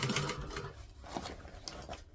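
A sewing machine stitches a seam at a 1/8 inch allowance on an inside-out garment, a quiet, fast mechanical whirr with faint rhythmic ticking that keeps running briefly and alone.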